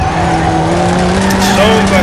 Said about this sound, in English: I just want to see if this Camaro will drift.